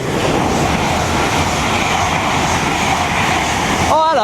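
LNER Class 91 locomotive 91101 on a Leeds to London King's Cross service passing through Retford on the East Coast Main Line, a loud, steady broadband roar of wheels and traction throughout with a rising whine near the end.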